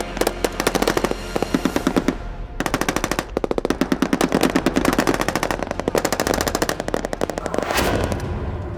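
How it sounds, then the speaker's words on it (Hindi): Sustained bursts of automatic machine gun fire in a Taliban versus Afghan forces fight, rapid loud rattling volleys with brief pauses between bursts, no voices. "horror machine gun fight,"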